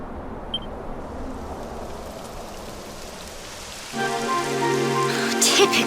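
Steady rain hissing down in the video game Dragon Quest XI, a broad wash of falling drops that thickens and grows louder partway through, joined by a layered tonal hum.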